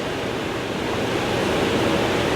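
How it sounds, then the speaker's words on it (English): Steady broadband rush of water flowing through a Frizzlife 600 GPD tankless reverse osmosis filter system, a continuous hiss that holds even and fairly loud throughout, with no voices. "I just turned on the water to it. I'm supplying water to it."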